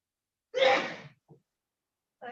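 A single sneeze bursts out close to the microphone with a sharp onset and breathy tail, followed by a tiny sound and a short vocal noise in quiet surroundings.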